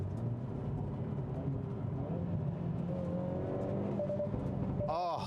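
A 2021 Hyundai Veloster N with a dual-clutch transmission drones steadily from the cabin under acceleration, engine and exhaust note rising gradually before a sharp burst at the end.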